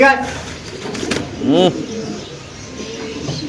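Fancy pigeons kept at home give a single close, throaty coo, heard alongside a voice and the bustle of a room.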